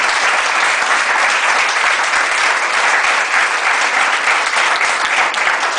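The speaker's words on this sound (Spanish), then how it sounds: "un fuerte aplauso al Rey de Reyes" Loud, dense applause from a church congregation offered to the King of Kings, a continuous wall of clapping that holds steady from start to finish with no voices above it.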